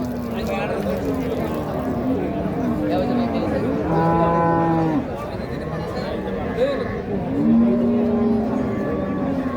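Sahiwal cattle moo several times at a livestock market, long low calls rising and falling, while people talk nearby over a steady background rumble.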